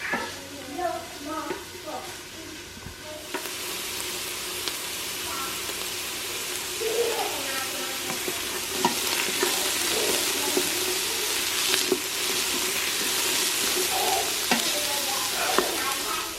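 Onions sizzle and fry steadily in an unwashed pan used earlier to brown meat for Instant Pot chili, with a spoon stirring and scraping through them; the loud, continuous sizzle runs throughout, and a voice talks at times.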